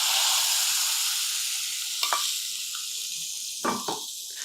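A tempering of red chillies, cashews and a pinch of asafoetida for kadambam prasadam sizzles in hot oil with a steady, fairly loud hiss. A few sharp clinks of a utensil break in near the end.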